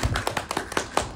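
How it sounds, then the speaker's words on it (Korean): An audience applauds after a Korean film screening talk, a short burst of sharp, close hand claps in a quick, slightly irregular rhythm. "박수"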